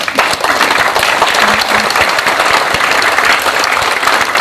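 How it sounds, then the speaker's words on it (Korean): Warm welcoming applause from the audience at a memorial ceremony in a hall at Seoul National Cemetery, loud, close and crackling, with individual sharp claps standing out and a short vocal sound partway through. "박수로 환영시면 고맙겠습니다"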